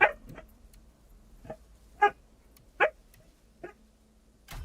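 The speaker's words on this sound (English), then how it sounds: "My one dog is a very vocal player. That's what you're hearing right now." A dog barks in short, separate bursts about every half second to second, sharp and fairly close, with quiet gaps between each bark.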